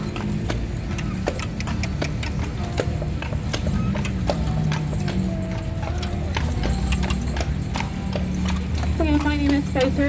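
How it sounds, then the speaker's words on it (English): A horse's hooves clip-clop steadily on a downtown Wilmington, North Carolina street as it pulls a trolley carriage, with creaking mechanical rattles and someone talking over it. "If y'all will stay seated while I get Mr. Pete parked and tied up, when we're ready, you can exit off the left side of the carriage."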